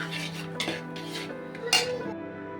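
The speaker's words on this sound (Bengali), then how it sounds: "কাশ্মীরি লঙ্কা গুঁড়ো দেব, দিয়ে নাড়িয়ে নিলাম" Stirring spices, cumin, turmeric and Kashmiri chili powder, in hot oil with sugar in a pan, with a few clanks of a utensil against metal and soft scraping, close by with no talking.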